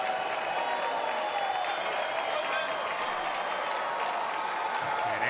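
Applause and crowd noise fill a basketball arena as a player checks out of a game, a steady broad roar of clapping under a commentator's voice.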